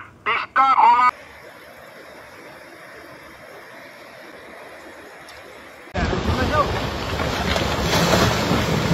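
Swollen Teesta river in flood, heard as a loud broad outdoor roar of rushing water mixed with wind buffeting the microphone. A quieter stretch after brief handling bumps gives way to the full roar.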